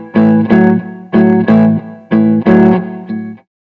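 Distorted electric guitar playing a blues shuffle on A, alternating root-fifth and root-sixth shapes in a loud, steady repeating pattern of chord stabs that rings out and stops near the end.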